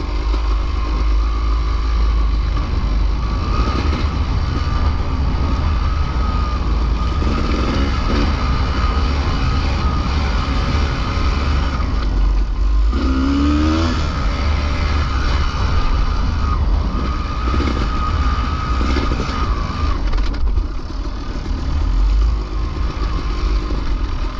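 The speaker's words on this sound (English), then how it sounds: "I love riding my dirt bike" A dirt bike ridden along a mountain trail in the Danskin Mountains, its engine droning loudly and continuously close by, with brief rises in revs and rattling from the rough ground.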